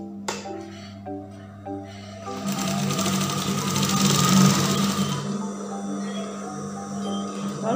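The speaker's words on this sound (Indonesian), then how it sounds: "Caranya ini kita jahit dulu untuk bagian sisinya." A sewing machine stitches the side seam of a garment, with its steady mechanical whir rising from about two and a half seconds and running loud and close for several seconds before easing back to a lower hum.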